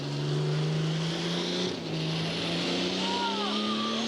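A modified diesel pulling tractor at a tractor-pulling event revs hard, its engine note steady and loud, then climbing in pitch while the crowd murmurs behind it.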